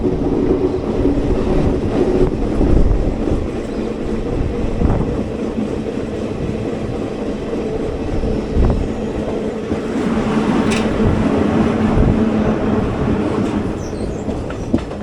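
The 06576 Summer Special train from Palakkad to Bengaluru SMVT rolls into Bangarapet station, heard from inside an AC 3-tier coach as a steady, close rumble of wheels and carriages with faint clatter throughout, no voices.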